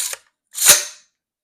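Two sharp AR-15 rifle shots in 5.56, a faint, brief first crack followed by a louder, booming report that decays quickly.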